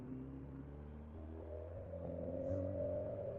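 Honda CB650R motorcycle fitted with KSPP velocity stacks and E-clutch, downshifting: a steady, moderately quiet engine drone with shifting low harmonics as revs change, heard from the rider's position without talk.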